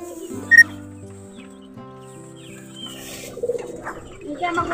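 Young pigeons make soft, low coos close by, with a brief sharp chirp near the start and some rustling and faint talk toward the end.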